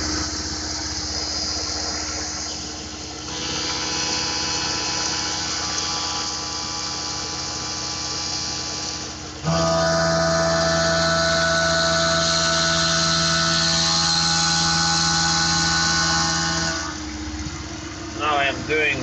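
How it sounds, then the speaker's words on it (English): A CNC machine milling an aluminum part with a 10mm end mill gives a continuous, loud mechanical drone with a sustained tonal whine that shifts pitch partway through as the cut changes, running steadily throughout. "First operation is this 10mm end mill."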